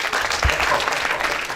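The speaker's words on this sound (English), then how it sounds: "So just give yourself a round of applause." A group at a social cohesion discussion session applauds. The clapping is steady and fills the whole moment, with no gaps.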